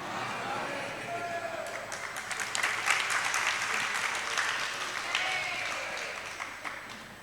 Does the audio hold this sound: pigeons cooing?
no